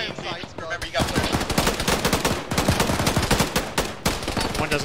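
Rapid bursts of automatic gunfire and single shots from a military video game battle, loud and dense throughout with crackling reports overlapping, faint voices barely present beneath.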